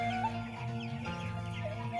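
Broiler chickens in a farm shed, clucking and murmuring in a continuous overlapping chorus at close range, with no talk.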